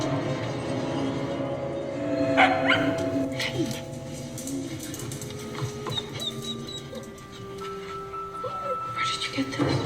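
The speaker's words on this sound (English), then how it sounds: "now a dog is bringing you a red ball" A dog barks and whimpers in the gothic horror film Crimson Peak while bringing a red ball. The short barks and yips sit under a voice talking across the scene.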